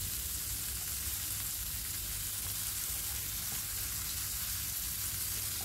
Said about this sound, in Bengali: লবণটা দিয়ে দেওয়ার পর ভেন্ডিগুলোকে আবারও একটু নেড়ে চেড়ে নিচ্ছি।